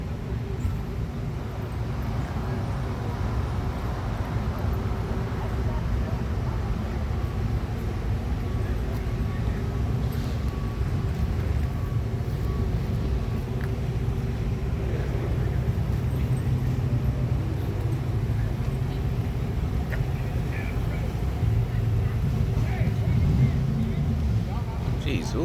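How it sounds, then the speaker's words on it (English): An engine idles at a car show in Madison, Mississippi, a steady low rumble that runs throughout with outdoor crowd noise, with voices talking over it. "That is a really sick engine."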